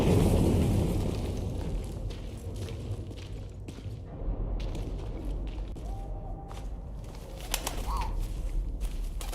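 Soft pigeon-like cooing from a bird in the WWI video game 11-11 Memories Retold, faint and brief against a steady low rumble of war ambience with occasional distant thuds.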